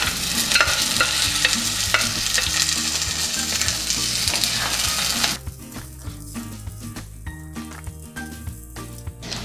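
Potatoes and field beans (mochai) being stirred in a pot for a kuzhambu, with steady scraping and sizzling throughout. The sizzling is louder at first, then drops to softer stirring.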